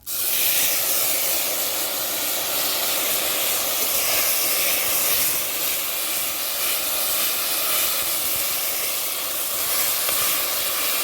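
Oil spatters in a pan after ginger and green chilli paste go in for a vegetarian cabbage dish, a steady loud hiss and crackle running without a break and with no voices.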